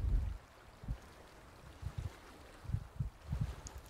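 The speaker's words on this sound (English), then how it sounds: "I can hear seagulls in the distance and the ripples of the ocean" Ocean water ripples and laps softly around a canoe, heard as faint, irregular low splashes and gurgles with quiet pauses between them.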